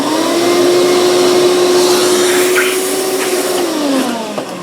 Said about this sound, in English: I'm just going to hit this with the vacuum as well